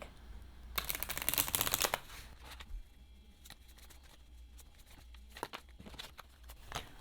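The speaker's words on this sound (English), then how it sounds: "we're going to pull an oracle card before we go" Oracle cards being shuffled by hand, a quick burst of riffling and flicking near the start, followed by scattered soft card taps and slides against a quiet room.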